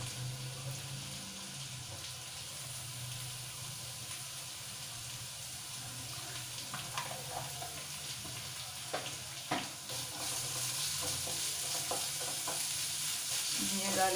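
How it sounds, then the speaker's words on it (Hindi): Onions frying until light brown for a curry gravy, a soft continuous sizzle with occasional stirring clicks, quiet and close, with a brief burst of running water partway through and no speech. "प्याज को लाइट ब्राउन होने में कुछ बस 1 मिनट जितना ही टाइम लगेगा"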